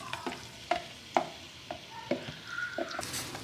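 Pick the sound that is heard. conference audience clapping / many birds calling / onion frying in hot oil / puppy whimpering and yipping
onion frying in hot oil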